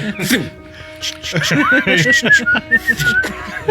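A person whistles a rising, wavering tune over busy background chatter and light laughter, fairly close and moderately loud.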